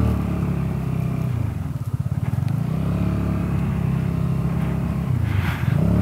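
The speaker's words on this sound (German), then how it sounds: "und so kann man jetzt hier kilometerlang am Strand lang fahren" A Vespa GTS scooter rides along a beach, its engine droning steadily close to the microphone with a rhythmic pulsing dip midway and wind rushing across, no talking.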